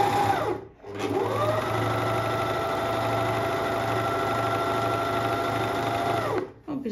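A repaired overlock sewing machine runs at a steady, even whir for about six seconds. The motor spins up at the start and winds down at the end, close and fairly loud.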